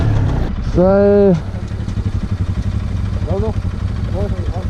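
A motorcycle engine idles on a ride to a waterfall at Markhu, a steady low hum running throughout, with a brief whistling tone near the start.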